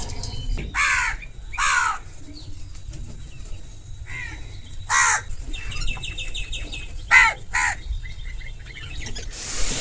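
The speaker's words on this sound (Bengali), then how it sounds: "এই যে এখানে কাক চলে এসছে, এখানে একটা কাক, এখানেও আর একটা কাক" Several crows cawing nearby from a balcony, harsh repeated calls in short bursts spread over several seconds, with faint pigeon cooing and other small bird chirps over a low background hum.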